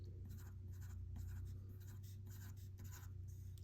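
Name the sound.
drawing flower petals on paper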